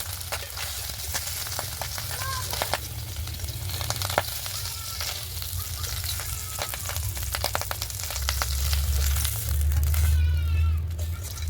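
Vegetables, eggplant and potato, being fried in a pan make a continuous close sizzle with scattered sharp crackles and occasional stirring scrapes, getting a bit louder near the end.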